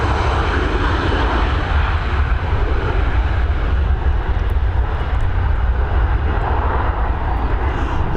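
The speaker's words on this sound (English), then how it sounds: "There we go, we're heading over to Paris now with this Embraer." An Embraer jet takes off from Dublin Airport with a loud, continuous broadband engine roar that stays steady and close throughout, with no voices.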